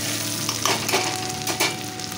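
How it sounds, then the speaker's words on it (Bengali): Whole spices spitting and crackling as a tempering fries in hot oil, ahead of bottle gourd with bata fish, a steady close sizzle with a few brighter pops and no talk. "তো এই দেখো ফোড়ন দিয়ে দিয়েছি"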